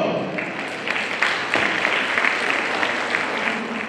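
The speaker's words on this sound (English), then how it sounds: "A huge round of applause for her." A hall audience at a school annual function gives the principal a dense, steady round of applause as she comes to the stage, the clapping loud and continuous from start to finish with a faint voice now and then.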